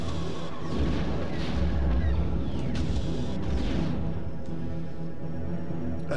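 Bombing explosions from the N64 game Rogue Squadron, a steady series of deep rumbling booms and bursts that keep going for several seconds, loud and close, with no talk over them.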